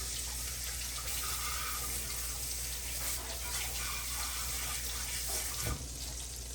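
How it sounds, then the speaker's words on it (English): Tap water runs steadily into a sink as hands are washed beneath it, a continuous close splashing hiss with a faint thump near the end. "Excuse me a minute while I wash these hands."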